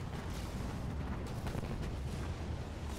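Gunfire and explosions in the Halo Wars 2 video game as kamikaze Grunts are shot down, a dense, continuous barrage of booms and rapid bursts at steady loudness.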